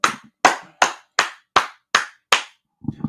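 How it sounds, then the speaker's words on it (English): Seven evenly spaced, crisp claps ring out alone in a steady rhythm and are followed by a faint, brief bit of trailing noise. "let's clap it up"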